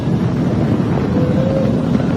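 A SpaceX Falcon 9 rocket carrying a crewed Dragon capsule roars during liftoff, a loud, steady, broadband rumble heavy in the low end that continues unbroken without any talking.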